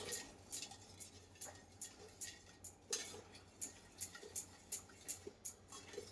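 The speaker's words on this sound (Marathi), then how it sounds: "तूप थोडं गरम होईपर्यंत आपण याला असं पळीने हलवून घेऊया" A ladle stirs pure ghee heating in a pan, giving a steady series of light metallic clinks and scrapes in an even rhythm, close and fairly quiet, with no talking.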